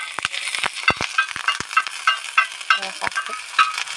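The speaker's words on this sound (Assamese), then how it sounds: "তেলটো লগাই তাৰপিছতে পিঁয়াজটো ভাজি লওঁ" Onions fry with two hot chillies in oil while a spoon stirs them, sharp scraping strokes repeating over a soft continuous sizzle, close and fairly loud, with no talking.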